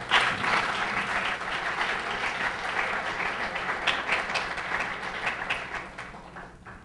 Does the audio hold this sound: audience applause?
yes